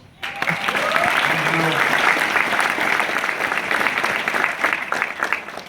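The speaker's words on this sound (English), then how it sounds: "Give yourself a round of applause." An Air Force base audience breaks into applause, a sudden onset of sustained, even clapping from a large crowd that carries on for several seconds with scattered voices inside it.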